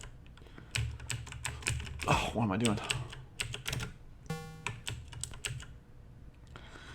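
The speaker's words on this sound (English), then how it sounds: "if it's top left, then you push the keys on the top left" Keyboard keys pressed while playing a C64 Whack-A-Mole video game, a run of sharp clustered clacks in quick irregular bursts, close and fairly loud, with a short spoken exclamation among them.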